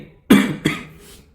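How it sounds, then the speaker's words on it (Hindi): Two quick coughs in a row, close and fairly loud, the second weaker than the first. "अब ये खांसी है कि जा नहीं रही है"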